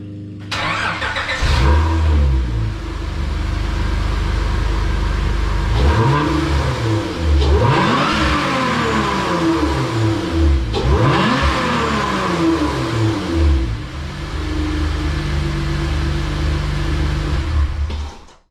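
An Acura TL V6 engine turns over and catches, then idles loudly with several sharp revs climbing and falling, close by and steady throughout.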